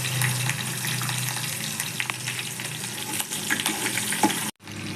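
Chopped ginger and green chili sizzle in hot oil in a pan, a close, steady crackling fry with small stirring clatters before the sizzle briefly cuts out near the end.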